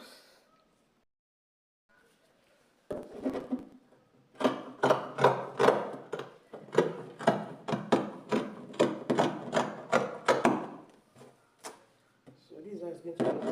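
Fabric being cut out for an A-line gown with close, crisp cuts in a quick, even rhythm of a dozen or so strokes after a quiet start.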